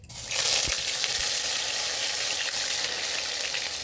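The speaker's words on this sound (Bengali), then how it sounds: "আমি এবার বেটে রাখা লঙ্কাটা দিয়ে দিচ্ছি।" Ground chili paste dropped into a pan of hot oil and browned sugar, flaring into a loud, close, steady sizzle after a soft clunk, with the frying hiss holding evenly afterward.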